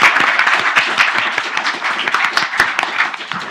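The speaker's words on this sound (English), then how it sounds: "Can you give them a round of applause?" An indoor audience applauds at a student question-time event, dense close clapping from many hands sustained across the whole stretch without a break.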